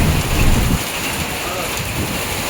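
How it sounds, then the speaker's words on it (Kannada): Heavy rain pounds down in a dense, loud, continuous roar with a low rumble in the first moment, and no voices are heard. "ಅಷ್ಟು ಜೋರು ಮಳೆ"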